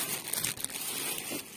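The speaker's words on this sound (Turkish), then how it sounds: "Hemen şöyle bir poşetinden çıkartıp tekrardan poşetini yerleştirelim" A stainless steel strainer slides out of a plastic bag that is then refitted, giving a steady soft crinkling and rustling of plastic at close range with no talk.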